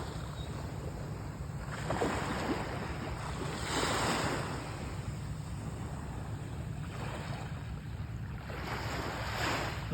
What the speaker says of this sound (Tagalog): Nindot kayong dagat ay.